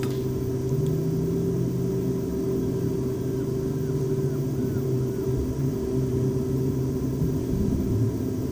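An airliner takes off and climbs out from Sumburgh in Microsoft Flight Simulator X, a steady loud engine drone with a whining tone holding constant throughout, no voices over it.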